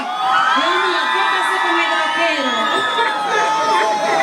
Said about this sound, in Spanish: Chicas, hay un grito para este caballero, por favor.